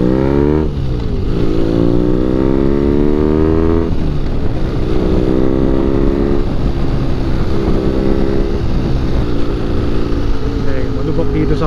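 A BMW R nineT motorcycle rides along an expressway, its engine loud and close, rising through gears in repeated climbing whines that drop at each shift, with heavy wind rush throughout.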